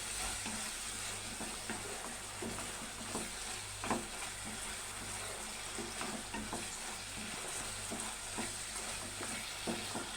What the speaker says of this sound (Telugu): ఆ మసాలా వేసేసుకుని అలా 2 మినిట్స్ ఫ్రై చేసుకుని